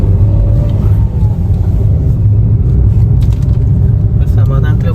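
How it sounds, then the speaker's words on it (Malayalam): A bus works along a hairpin mountain road on the way to Wayanad, with a loud, close, continuous engine rumble and deep drone throughout. "ഒരു ബസ്സുണ്ട് കേട്ടോ അവിടെ, ശ്രദ്ധിച്ചോ"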